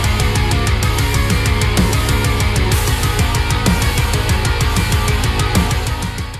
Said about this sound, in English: I have this project where I procedurally generate progressive metal music